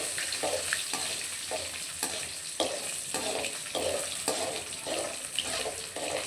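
Curry leaves, cinnamon and dried red chillies frying in hot oil for a jackfruit gravy, with a steady close sizzle and regular stirring scrapes roughly every half second.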